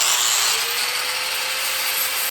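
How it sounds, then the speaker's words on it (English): A power sander grinds material off a wooden axe handle for an Evansville axe head, a loud, steady high whirring rasp held close and continuous before cutting off abruptly at the end. "I'm gonna get my sander here and just take a little bit off"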